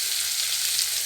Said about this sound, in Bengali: হালকা আঁচে, যাতে সবজিগুলো গলে না যায় অথচ সেদ্ধ হয়ে যাবে।